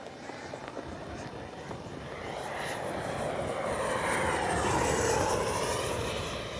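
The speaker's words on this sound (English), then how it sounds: "Probably one of the best sounding F-15s and Twin 64s you can possibly buy." Radio-controlled F-15 model jet with twin 64mm ducted fans flying past on a windy day, a steady whooshing fan whine that swells louder as it nears, then eases slightly, with no talk.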